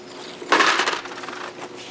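Keys dropped into a plastic bucket at an airport security checkpoint, a short bright metallic jangle and clatter up close, with a few smaller rattles settling right after.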